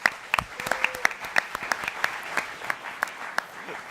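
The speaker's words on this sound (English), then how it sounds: "Let's clap it up for them." Room audience at a high school quiz bowl quarter-final clapping for a team: brisk, fairly close applause with distinct individual claps standing out over a steady patter, a brief tone and faint voices underneath.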